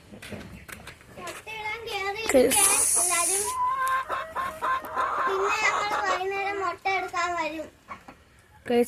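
Backyard coop chickens cluck and cackle in uneven, drawn-out bursts, close and fairly loud, with a voice mixed in among the calls.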